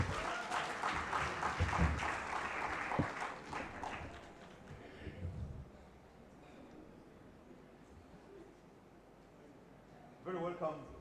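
An audience at a tourism investment conference claps to welcome a panel, a burst of applause that fades over a few seconds into quiet room tone, with a voice briefly returning near the end.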